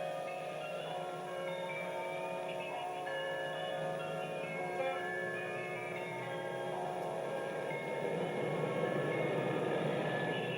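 A steady rumbling train with a continuous mechanical hum and faint ringing tones, sustained throughout at moderate distance.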